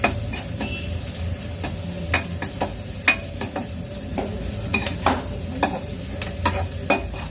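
Onions frying in a pan for eggplant bharta, with a steady sizzle broken by repeated sharp scrapes and clinks of a spoon stirring against the metal, close and fairly loud, no voices.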